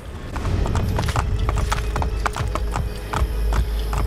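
A horse's hooves clip-clop across a town in Assassin's Creed Brotherhood, a steady close rhythm of loud hoof strikes with an occasional snort, over a low ambient rumble.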